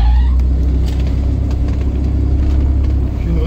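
A Daimler DS 420 limousine with its 4.2-litre engine pulls away, giving a deep, steady low rumble from close range that stays even throughout, with no talking over it.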